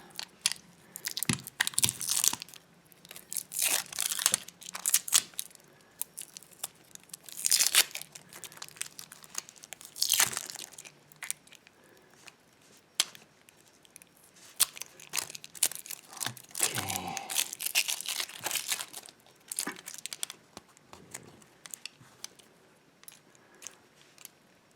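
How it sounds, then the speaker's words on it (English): A package holding a steel disc lock is unwrapped, with many crinkling, crumpling and tearing bursts of plastic and paper, close but fairly quiet, in irregular clusters separated by short pauses. "Let's quickly unwrap it."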